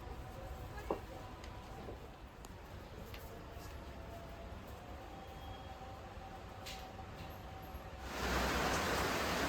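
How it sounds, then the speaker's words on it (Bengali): Rain falls steadily in a rural village with a constant soft hiss. It swells into a louder, denser downpour over the last moments, and no one speaks. "বৃষ্টি নেমে গেছে"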